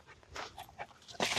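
Hunting retriever pup panting and whimpering close by, quick breathy pants broken by a soft whine, quiet and alone.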